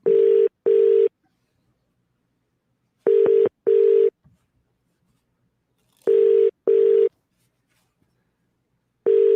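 Telephone tones while placing a call: short, loud, steady beeps in pairs, sounding twice and then again with pauses between them, clean and alone with no voices.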